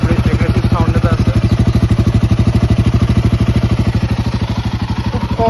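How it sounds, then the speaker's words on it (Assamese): Royal Enfield Himalayan 450 motorcycle engine idling nearby with a steady, fast thumping pulse that stays loud and even throughout; a brief voice surfaces faintly in the background. "আইডিয়েল চাউণ্ডটো এনেকুৱা ধৰণৰ এগ্ৰেছিভ চাউণ্ড এটা আছে"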